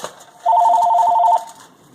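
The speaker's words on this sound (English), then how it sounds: "Sorry, that's my phone." A telephone rings once in a home kitchen, a steady electronic two-tone trill lasting about a second, loud and close, with no talk over it.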